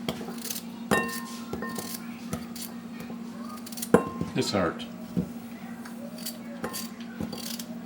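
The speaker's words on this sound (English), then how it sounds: "Now the next step is cutting them into about 1-inch squares or chunks." A knife cuts coconut meat into one-inch chunks, with irregular close taps and scraping clicks against a board while a voice briefly speaks.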